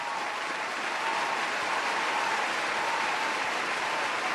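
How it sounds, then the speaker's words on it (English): Steady, dense applause from a large crowd at Summer Game Fest, a loud, even wash of clapping that holds without a break for several seconds. "So huge round of applause"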